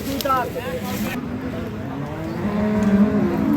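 At an outdoor cattle market selling dairy cows with calves, a cow lets out a low moo near the end, rising over crowd murmur and talk.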